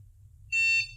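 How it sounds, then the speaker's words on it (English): A remote dog training collar gives a single short electronic beep while pairing, sounding halfway through a near-silent stretch and fading quickly. "It beeps"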